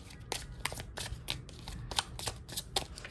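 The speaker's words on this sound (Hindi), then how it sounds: "आपने अगर प्ले नहीं किया है पहले शफल में तो आप कर सकते हो" A deck of tarot cards is shuffled close up, with a rapid, uneven run of crisp riffling bursts and soft flutters, quiet and alone with no talking.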